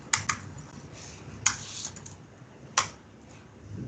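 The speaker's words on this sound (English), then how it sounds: "Pressures of typing while everybody is watching." A computer keyboard is typed on during a live coding demo, with a few sparse, distinct keystroke clicks spaced apart over a faint background hiss.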